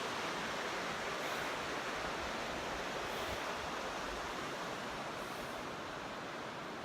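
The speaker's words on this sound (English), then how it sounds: "But yeah, beautiful river," A river in Oregon flows steadily with a broad, even rush of water, constant and close, with no voices over it.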